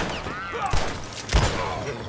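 Gunfire in the video game Red Dead Redemption 2, with two sharp, heavy shots about half a second apart over a noisy in-game background.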